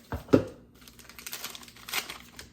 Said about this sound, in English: put in a family-sized tea bag.